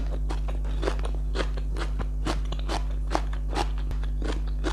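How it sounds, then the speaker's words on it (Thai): Crisp fresh cucumber being chewed close up, a steady run of loud crunchy bites and mastication over a constant low hum, with no talking. "แตงกรอบมาก"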